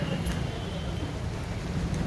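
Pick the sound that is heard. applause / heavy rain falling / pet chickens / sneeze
heavy rain falling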